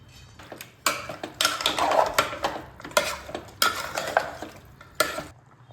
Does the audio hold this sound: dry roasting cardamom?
yes